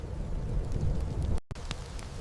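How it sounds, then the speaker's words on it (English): Thunder rolls through a storm as a deep, continuous rumble beneath the hiss of rain, broken by a brief cut of silence partway through. "The sky itself spoke in flashes and thunder"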